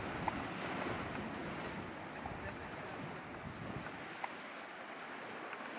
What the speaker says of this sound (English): These are good toddler-sized waves.